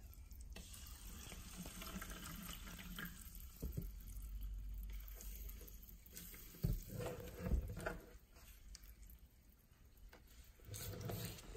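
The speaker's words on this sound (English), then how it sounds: "Let's pour some water in." Eternal sparkling mineral water is poured from a bottle in a steady, soft splashing stream that swells and fades over several seconds, quiet and close with no talking.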